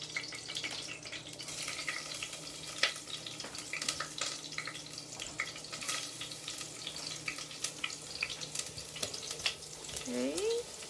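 Ginger sizzles and fries in a pan for a stir-fried vegetable and haddock dish, a steady close crackle with scattered clinks and stirring noises.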